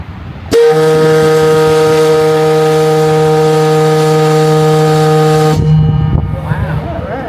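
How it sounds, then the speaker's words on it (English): Loud steam whistle at Mackinaw City sounding a single long continuous blast of about five seconds, ending sharply, followed by lingering echo and faint background murmur. "there's a reason why they wanted to move the whistle from the south end of the roof to the north end of the building"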